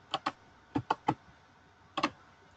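Short bursts of key clicks from a computer keyboard, a quick pair, then three, then another pair, close and fairly quiet against a faint room hum.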